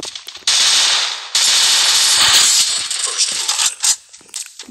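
Automatic gunfire in the Free Fire battle royale game, loud rapid bursts starting abruptly and cutting out, followed by scattered sharper shots and impacts, with no talk over it.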